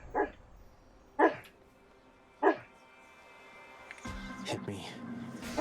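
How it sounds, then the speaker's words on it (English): A sleeping dog named Shoal lets out three muffled dream woofs at a steady interval, close and soft, before busier background sound takes over and a final faint whimper slips through. "If you can hear that, that is Shoal having a giant puppy dream."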